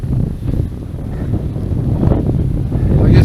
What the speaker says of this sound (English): Completely exposed here, it's windy as heck.